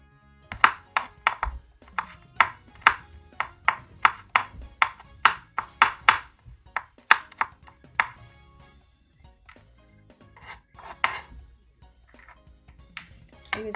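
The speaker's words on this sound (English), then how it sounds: "I'm going to go ahead and get my garlic chopped." Garlic being chopped with a knife on a cutting board, a quick series of close, sharp taps in uneven bursts with short pauses between runs.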